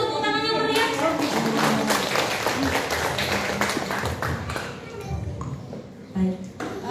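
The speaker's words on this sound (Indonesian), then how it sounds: "Boleh disambut tepuk tangan yang meriah." An audience at a live parenting class claps, a dense burst of hand claps that fades over several seconds, with a voice talking underneath and a few scattered claps at the end.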